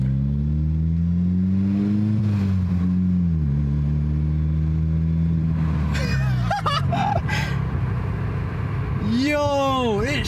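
A 2018 Jetta GLI with a straight-piped three-inch stainless steel exhaust revs with a loud, deep, raspy drone that rises and falls. Excited voices talk over it, and sharp higher squeals come near the end.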